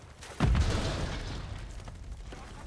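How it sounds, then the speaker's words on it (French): In Call of Duty MW3, a grenade goes off as a sudden loud boom that rumbles and fades over about two seconds, with no voices. "Je lance une grenade."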